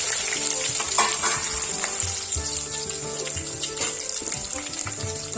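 Onions and mint frying in a pan for chicken curry, a dense continuous sizzle with crackles and the scrape of stirring, close and steady.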